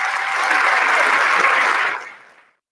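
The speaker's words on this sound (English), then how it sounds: "Let's give them a round of applause." An audience at the Small East versus Small West OBCA All-State game applauds the all-state teams, a dense, steady clapping that swells, holds for about two seconds, then tapers off quickly into silence.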